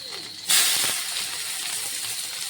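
Garlic and onion frying in a pan for fried rice and chicken Manchurian, a sudden loud hissing sizzle that starts abruptly and then settles into a steady sputtering crackle with no talk.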